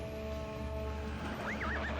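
A horse whinnies in the Ultima Online game, a rising and falling neigh arriving late over a steady droning game backdrop, with no talk.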